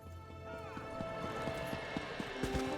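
Horse galloping in the video game Final Fantasy 11, rapid rhythmic hoofbeats at moderate volume layered over game music, with a brief whinny-like tone early on.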